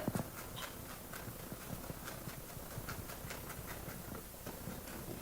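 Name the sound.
knife chopping minced garlic on a cutting board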